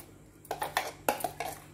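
Coconut chutney scraped into a bowl, a few close, light clinks and scrapes of a spoon against a dish in quick irregular succession, with no voices.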